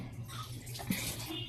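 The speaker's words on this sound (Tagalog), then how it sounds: "So ako siyang banwasan." Running water rinsing something, a steady close splashing flow that swells briefly partway through.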